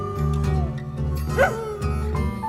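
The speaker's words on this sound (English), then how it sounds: "that's the dog who's outside" A dog outside yips and whimpers in short bursts, rising briefly into a higher howl-like cry, over a steady low musical backdrop from a rock album track.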